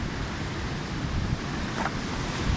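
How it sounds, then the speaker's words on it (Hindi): A jungle river near Harsil flows steadily, a broad continuous rush of water with wind-like noise, moderately quiet and unbroken throughout. "जंगल से होते हुए ये नदी इधर आ रही है।"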